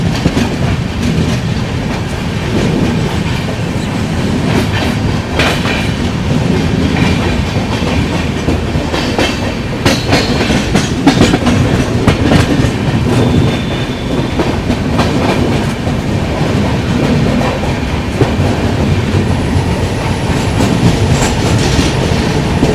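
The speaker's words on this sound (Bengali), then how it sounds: "ট্রেন নির্দিষ্ট সময়ে ছেড়ে বেরিয়ে গেল দক্ষিণেশ্বর রেলওয়ে স্টেশন।" Passenger train departing Dakshineswar railway station on a Kolkata route, a loud continuous rumble with rhythmic clickety-clack of wheels over rail joints, heard from inside the carriage without talk.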